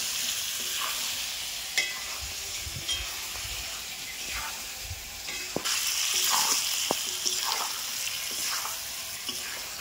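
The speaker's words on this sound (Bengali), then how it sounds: "এবার আমি এই আমগুলো দিয়ে দেবো। আমি খুব বেশি নাড়াচাড়া করবো না, একটু হালকা নাড়াচাড়া করে নেবো আমটা দেওয়ার পরে।" Raw mango pieces for a pickle stirred gently in hot oil, giving a steady broadband sizzle with scattered light scraping and clicking strokes, close and continuous, no voices.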